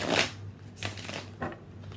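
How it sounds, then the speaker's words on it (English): Three quick papery riffles of tarot cards being shuffled close up, spaced about half a second apart, fairly soft. "let's go ahead and shuffle and see what comes out"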